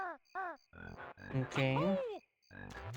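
Cartoonish frog croaks in Banjo-Kazooie sound from tree stumps, a series of loud, close, bouncy warbling calls in short bursts separated by brief gaps, with a single brief spoken word among them.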